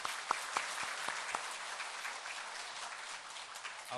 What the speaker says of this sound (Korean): 우리에게 은혜 주신 하나님께 영광의 박수를 좀 돌려드리겠습니다.